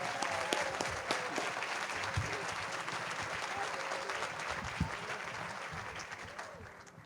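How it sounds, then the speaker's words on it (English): Steady audience applause fills a hall at an awards dinner, sustained clapping from a large crowd throughout with no voices over it. "Let's give Ms. Jerkins a round of applause."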